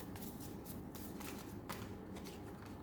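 Tarot cards being shuffled and drawn, quick soft riffling and flicking of card stock, faint and close with no talk.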